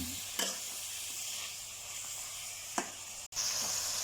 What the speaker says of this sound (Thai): ผัดให้หอมครับผม